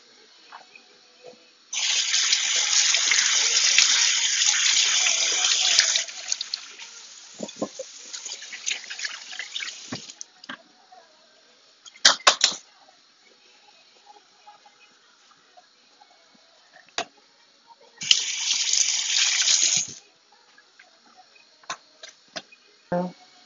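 Tap water runs as food is rinsed in a kitchen while preparing Moroccan lamb couscous, a close hissing gush that flows for several seconds, stops, and returns briefly later, with small clinks and taps between the bursts.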